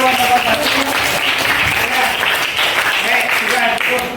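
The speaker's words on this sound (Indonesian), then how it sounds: "Ya, tepuk tangan" Students clap in a classroom after a group presentation, a continuous patter of hands with voices speaking and calling out over it.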